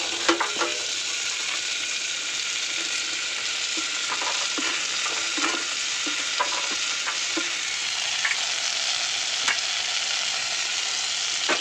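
Beetroot tossed with softened onion and tomato in a pan, a steady close sizzle running throughout with frequent scraping stirs of the spoon and no talking.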